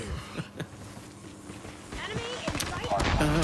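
PPSh-41 submachine gun fire in Call of Duty Mobile: a few sharp shots and short bursts with footsteps, heard under someone talking and growing busier toward the end.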